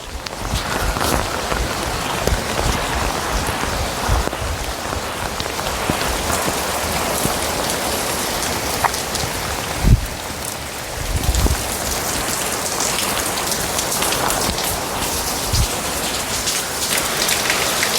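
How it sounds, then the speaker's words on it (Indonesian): Heavy rain pours down steadily and loudly, a dense unbroken hiss of drops drumming on surfaces, with an occasional thud in the middle. "kita sampai hujan gede"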